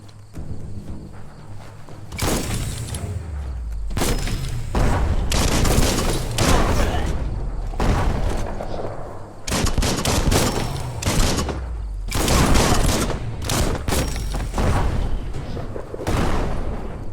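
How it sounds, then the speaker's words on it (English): Bomb lobber explosions in the action game Biomutant: a long run of loud, close blasts and gunfire-like bursts, some spaced a second or two apart and some clustered, over a constant rumbling bed with no talk. "That's a bomb lobber."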